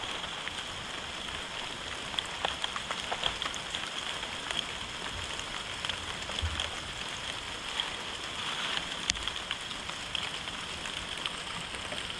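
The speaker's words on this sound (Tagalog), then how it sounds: "ah, ulan na naman namin." Steady rain patters and hisses on surfaces, with occasional sharper drips standing out against the continuous wash of sound.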